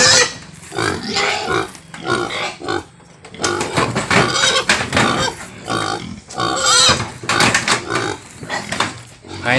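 Pigs eat taro feed, with loud, close grunting and snuffling in repeated bursts and short pauses between them.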